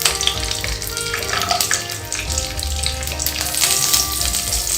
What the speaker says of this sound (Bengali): কাজু আর পেস্তা আমি একটু ঘিয়ে ভেজে নিচ্ছি।